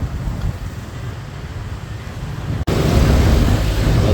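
Scooter ride through Vietnam with a constant rush of wind and road noise against the microphone, the roar jumping louder partway through as the motorbike picks up speed.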